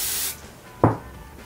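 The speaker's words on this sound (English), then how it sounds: "I know you could spray it directly onto the face, but aerosol tends to, like, spray everywhere." Aerosol makeup setting spray hissing in a short burst near the start, followed by a quick sharp puff or click a moment later, close and clear with no talking.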